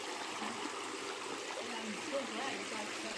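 Clear creek water flowing over stones in a redwood forest, a soft continuous babble and trickle heard at a low, even level, close by.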